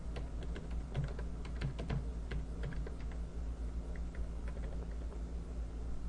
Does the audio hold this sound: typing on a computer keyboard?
yes